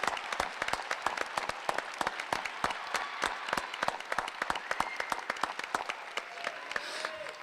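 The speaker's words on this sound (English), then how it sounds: "let's give all of our recipients a big round of applause." Audience applause for student award recipients at a school district excellence awards ceremony, a dense steady crackle of many hands clapping throughout, loud and without talk.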